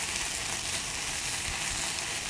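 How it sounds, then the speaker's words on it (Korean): Teriyaki sauce hitting a hot pan for a tteokgalbi pizza sauce, an even, continuous close sizzle with no talk. "여기에 데리야끼 소스 부어줄 거예요"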